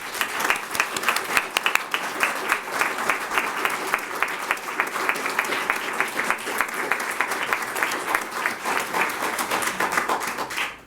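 An audience at a League of Women Voters candidate forum applauds steadily for about ten seconds, a dense, even patter of many hands clapping in a room, with no voices standing out.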